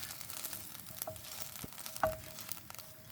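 Eggplant frying with oat flakes in a pan over medium heat, a soft continuous sizzle with a few faint stirring taps and clicks, heard close and alone.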